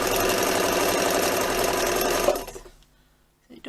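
A zig zag sewing machine runs at a steady, busy whirr with a fast mechanical rattle for about two seconds, then winds down and stops, leaving a couple of faint clicks.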